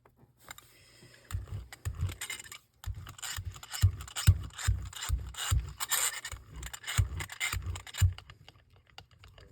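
A brayer rolls paint across a gel printing plate in repeated back-and-forth strokes, giving a close, tacky rubbing and rasping texture with rhythmic pulses and a brief pause early on.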